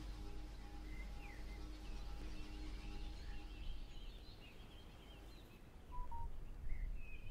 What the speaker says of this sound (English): I heard a phone.